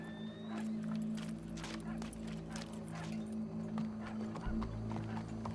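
Steady clip-clop of horse hooves, moderately close, over a constant low mechanical hum with faint background voices.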